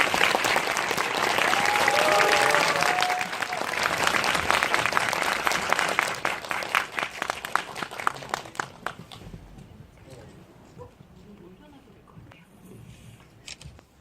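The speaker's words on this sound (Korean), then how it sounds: "큰 박수로 맞아주시기 바랍니다" Loud, sustained applause from a seated audience greeting film director Mamoru Hosoda and his interpreter at a Korean special screening talk for the animated film Mirai, swelling strongly then tapering off, with camera shutters clicking throughout.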